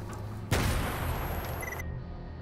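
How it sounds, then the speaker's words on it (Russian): A single heavy blast from a grenade in S.T.A.L.K.E.R.: Clear Sky erupts suddenly and loudly, then leaves a long rumbling, crackling decay with a faint high whine under it. "Имбовые гранаты летят из ниоткуда?"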